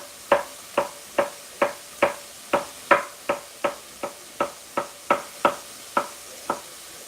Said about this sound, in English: The other half of this I'm going to slice up to make my cucumber pickles with some onion slices.